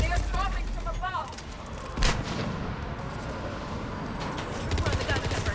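Machine gun fire and explosions fill a Mass Effect 3 battle, a dense continuous barrage with a loud boom near the middle, while voices speak over the combat.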